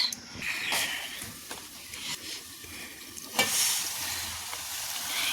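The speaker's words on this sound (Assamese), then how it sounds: "মূলা আৰু আলু ভাজি বনাইছো" Radish and potato frying in a pan give a soft, continuous sizzle, punctuated by occasional scraping stirs and a sharper burst of crackle partway through, heard fairly quietly with no talking.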